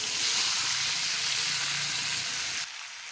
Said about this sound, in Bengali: এখন আমি একটু আধা শুষ্ক একটু সাঁতলিয়ে নেব, সামান্য একটু সাঁতলিয়ে নেব